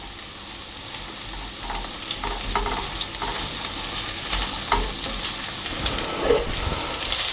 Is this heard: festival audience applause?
no